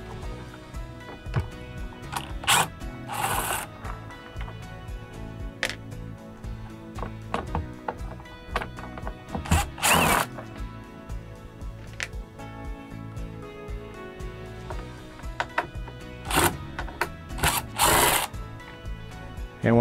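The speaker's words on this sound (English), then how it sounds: "we'll use our cordless drill to remove the screws in the four corners" A cordless drill backs screws out of the four corners of a Coleman-Mach air conditioner's outer shroud, giving several short, loud whirring bursts with clatter and handling noise between them.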